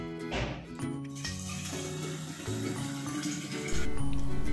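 Boiled water pours from a kettle into a glass bottle, a continuous trickling fill whose pitch climbs as the bottle fills, close and clear with no talk.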